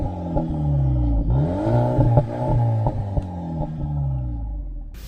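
A 2022 VW Polo GTI engine revs and pulls through the gears, a steady low drone rising in pitch with each acceleration and dipping at shifts, heard continuously and fairly close.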